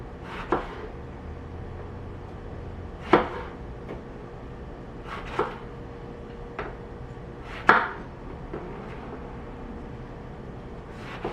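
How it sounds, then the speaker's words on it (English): Knife chopping Japanese eggplant into pieces on a cutting board, with a handful of sharp, separate cuts spaced a few seconds apart over a quiet kitchen background. "I'm just gonna kind of cut it into some pieces"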